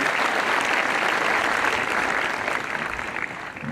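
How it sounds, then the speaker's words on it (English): A commencement audience claps in a dense, sustained round of applause that stays loud and even for several seconds, then begins to thin slightly toward the end. "Let's give them a round of applause"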